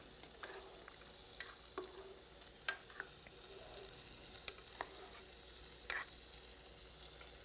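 Mac and cheese being stirred in a pot over high heat, a faint low sizzle with scattered light clicks and scrapes from the spoon, heard close and quiet with no talking.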